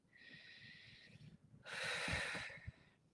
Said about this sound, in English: Really take a deep breath.